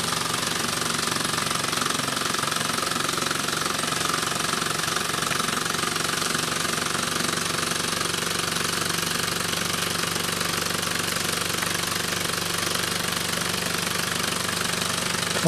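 Meccano model's multi-stage geared drive running steadily, a continuous dense mechanical whirr and rattle of meshing gears at constant level throughout, close up with no talking.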